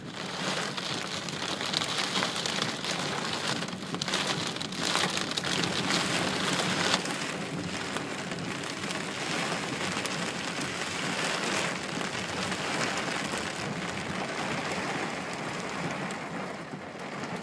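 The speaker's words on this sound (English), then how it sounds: "we've never seen rain like this before" Heavy rain pours down in a steady, dense roar that never lets up, close and loud, with no voices, during the 2013 Colorado flood.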